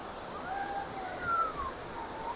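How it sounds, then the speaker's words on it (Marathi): A secluded monsoon waterfall near Khandala rushes as a steady, fairly quiet broadband roar, with a voice rising faintly over the constant water noise. "हे बघा हा असा आहे प्रायव्हेट धबधबा"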